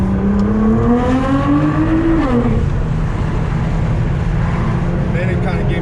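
A Nissan R35 GTR accelerating in mostly rear-wheel-drive mode, its engine note rising in pitch, then dropping away and settling into a steady drone heard from inside the car, with continuous loud road and wind noise.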